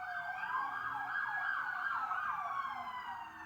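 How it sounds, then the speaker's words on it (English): A wailing emergency siren out in a city street, rising and falling in repeated sweeps, moderately distant and steady, with no talk over it. "More sirens."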